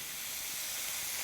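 Oil sizzles in a pan holding eggplant and pre-boiled broccoli, giving a steady, even hiss that runs without a break through a short moment, with no voices.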